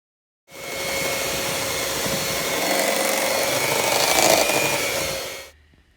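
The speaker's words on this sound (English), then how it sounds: "I took the hand mixer back out, and then I just blended it all that way" Electric hand mixer whirring continuously for about five seconds as it blends Cool Whip and cream cheese for filled funfetti cupcakes, starting and stopping abruptly, close and steady with a slight swell near the end.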